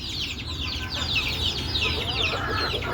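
Several chickens cluck and chatter continuously nearby in a busy, overlapping chorus with steady background noise.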